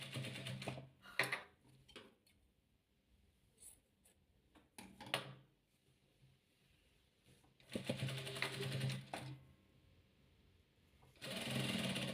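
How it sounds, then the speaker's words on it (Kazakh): A sewing machine stitching patchwork quilt pieces in short, close bursts separated by quiet pauses, with a longer run of stitching near the end. "Енді үшінші қабырғасын тікеміз."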